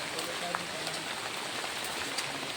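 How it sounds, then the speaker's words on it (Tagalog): Heavy rain falls outdoors as a dense, steady wash of hiss with scattered droplet ticks, continuous throughout, with people talking faintly now and then. "Sobrang lakas ng ulan talaga."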